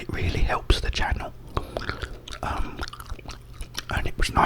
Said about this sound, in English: it was nice to do a bit of gum chewing